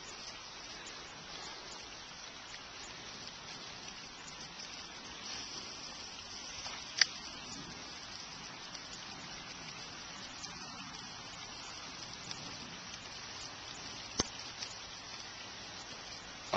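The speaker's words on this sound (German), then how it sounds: "Wie man sieht, heute schöner Regen" Steady rain falls at a lakeside or riverbank fishing spot, a soft, even hiss that continues throughout, with a few faint taps standing out.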